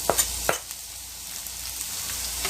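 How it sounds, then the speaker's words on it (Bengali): Onion and chopped chili frying in hot oil for an egg and vegetable omelet, with a couple of sharp crackles at the start, then a steady faint sizzle close by. "তেলটি গরম হওয়ার পর আমি দিয়ে দিচ্ছি পেঁয়াজ আর"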